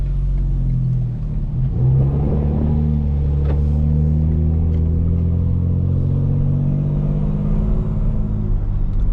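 A loud 900-horsepower tuned 2025 BMW M4 Competition xDrive engine rumbles at a steady idle with exhaust valves open, deep throaty tones, close and continuous with no talking.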